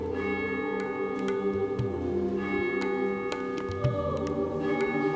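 Church bells ring inside a stone cathedral with stained glass in Vietnam, sustained tones layered and humming with repeated faint strikes, steady throughout at moderate loudness.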